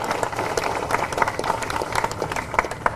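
A crowd at a Democratic Party gathering applauds the media and journalists with dense, continuous clapping that stays at an even, moderate level throughout.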